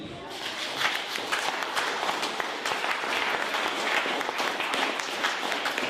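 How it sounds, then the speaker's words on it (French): Sustained applause from an indoor audience, dense and steady for several seconds with a broad wash of clapping hands. "Je voudrais vous demander d'applaudir encore Lévi."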